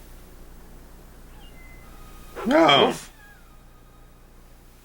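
A single short kitten meow from the 1992 film Pet Sematary Two rises briefly and clearly above a quiet background.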